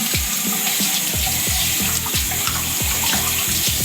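Tap water runs steadily into a sink as shaving cream is rinsed off, a continuous close splashing hiss with no talking.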